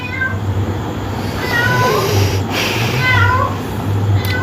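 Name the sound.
cat meowing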